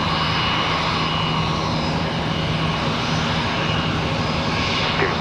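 Airliner taking off at Charlotte Douglas International Airport, its engines giving a loud, steady roar that holds without letup, heard alone with no voices.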